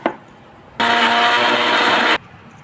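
A kitchen mixer grinder whirs loudly for about a second and a half as it grinds chana dal and rice in water for dhokla, starting and stopping abruptly.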